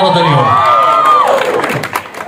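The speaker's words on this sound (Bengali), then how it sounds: "জোরে একটা করতালি হোক" A Content Creator Association meetup audience in a hall erupts in loud whooping and cheering, with a rising whistle-like shout, then a burst of clapping and crowd noise close and dense.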